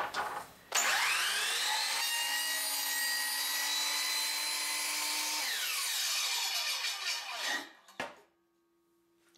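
A power saw cuts wood for mini beehive frames, spinning up with a sudden loud whine, biting through the board for several seconds, then winding down to a fading hum and a final clatter, close by.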